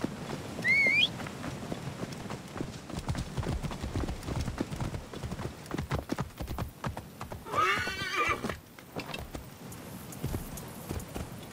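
Clopping horse hooves with two high whinnies in Assassin's Creed Origins, one neigh early and another near the middle, over continuous trotting steps and game ambience.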